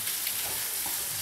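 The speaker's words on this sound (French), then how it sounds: "Je vais faire juste revenir mes foies." Chicken livers browning in a hot pan for a stuffed poularde filling, a steady bright sizzle holding even and close throughout, with no voices.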